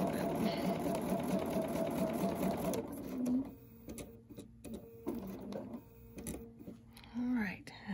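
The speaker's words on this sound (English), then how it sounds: "I take just a few little stitches right at the beginning" A sewing machine runs steadily in the first three seconds, stitching a quilting seam guided by a ruler, then stops and leaves quieter handling noises and short bursts of low whirring.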